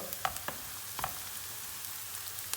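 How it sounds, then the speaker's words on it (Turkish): Chopped onions sizzle quietly in a pan while a utensil stirs them, with a few soft scrapes and clicks against the pan over a low, steady frying hiss. "Şöyle soğanımızı bir kere daha karıştırıyoruz."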